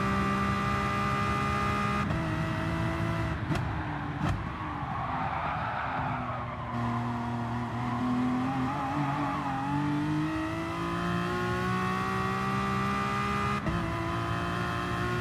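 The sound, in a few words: Aston Martin DP100 VGT race car engine, video game Gran Turismo Sport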